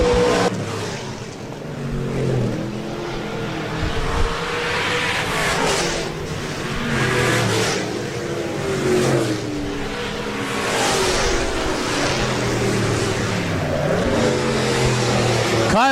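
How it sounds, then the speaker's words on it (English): USRA stock cars racing in a heat race at Rapid Speedway, engines roaring and surging as the cars lap past, loud and continuous, with a faint voice under the noise. "Fourth and final heat race for the USRA Stock Cars presented by Precision Auto Body"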